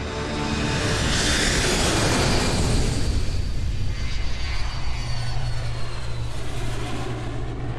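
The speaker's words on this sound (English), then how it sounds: "Now on course for New York City, United Airlines Flight 175 is just minutes away from impact." Roaring jet airliner engine of United Airlines Flight 175 swells loudly and holds a steady, close, sustained drone with a shifting whine and no talking.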